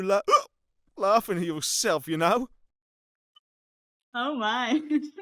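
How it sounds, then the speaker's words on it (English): A single quick hiccup sounds between bursts of animated speech, with brief silences around it. "Was that a hiccup I just heard?"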